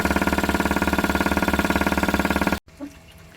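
A DIY compressed air engine runs at high speed on about 120 psi with a fast, even machine-gun chatter of exhaust pulses, loud and close, then cuts off abruptly, leaving a faint clunk and quiet.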